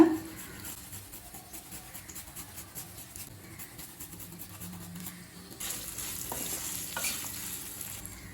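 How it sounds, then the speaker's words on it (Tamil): Grated ginger being sautéed in a pan for coconut rice gives a faint, steady sizzle with soft scraping stir strokes, getting slightly louder toward the end. "ஸ்லோலே வச்சு கலர் மாறாத மாதிரி வதக்கிக்கோங்க."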